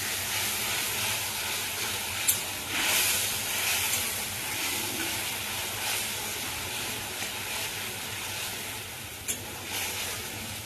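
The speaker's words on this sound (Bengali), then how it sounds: "তেলের মধ্যে দিয়েছি তাই ফুটে উঠলো একটু সুন্দরভাবে" A spice mix sizzles in hot oil for doi rui, a steady close hiss that continues throughout with a few faint clicks and no talk.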